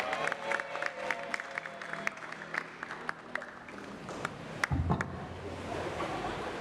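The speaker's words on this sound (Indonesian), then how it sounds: "Boleh sekali lagi berikan tepuk tangan yang meriah Bapak Ibu." A church congregation applauds during an Easter service, a steady wash of dense clapping with scattered sharper claps that thickens briefly near the end.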